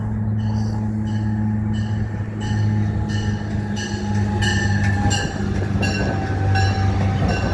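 A MARC commuter train passes Halethorpe station at express speed, a loud, close, continuous roar with a steady low rumble, rhythmic wheel clicks and high squealing tones.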